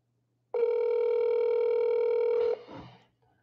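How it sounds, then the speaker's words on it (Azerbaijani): A phone's ringback tone sounds once, a steady electronic tone about two seconds long with nobody answering, followed by a brief faint rustle and then quiet. "Götürmür telefonu"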